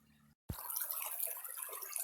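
Water running through a gold sluice in a Randolph County creek, a continuous close rushing and gurgling flow that starts abruptly after a brief silence.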